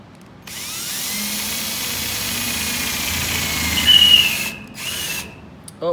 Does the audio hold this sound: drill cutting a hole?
yes